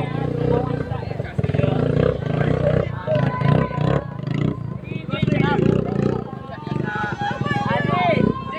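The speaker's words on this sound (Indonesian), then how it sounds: "Dia motor perang ni lalu kacau." A motorcycle roars loudly past on a busy night street in Melaka, its engine roar sustained and close, mixed with crowd babble and people talking over it.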